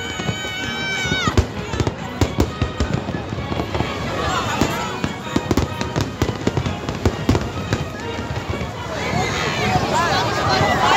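New Year's Eve fireworks over Icaraí beach, a rapid barrage of sharp bangs, crackles and whistling bursts, dense and loud, with crowd babble and voices underneath.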